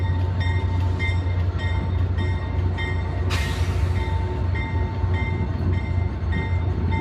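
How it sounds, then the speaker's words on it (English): A CN freight train rolls past a station with a steady, loud rumble and faint screeching tones throughout, and a sharp burst of hiss or squeal near the middle. "That is a CN freight train."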